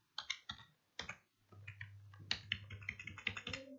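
Typing on a computer keyboard, with sharp, close key clicks in uneven bursts over a faint low hum, no voices.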